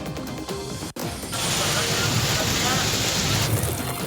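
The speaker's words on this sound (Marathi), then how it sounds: "राज्याच्या विविध भागांमध्ये मान्सूनपूर्व पावसाच्या सरी" Heavy pre-monsoon rain pours steadily and loudly as a dense hiss, with a sharp crash near the start and a swell in intensity that holds through the rest.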